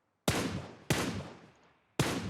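Gunfire in PUBG Mobile: three loud, close shots with long reverberant tails, the first two in quick succession and the third after a pause, with silence before them.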